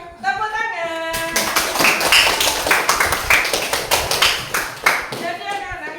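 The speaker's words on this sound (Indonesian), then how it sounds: "Tepuk tangan." A classroom of elementary schoolchildren claps hands together in a dense, lively burst of many overlapping claps, loud and close, following a teacher's spoken instruction.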